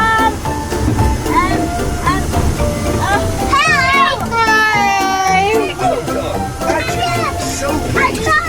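A children's train ride at Alton Towers rumbles along with steady background noise, overlaid by lively children's voices, shouting and music-like tones throughout.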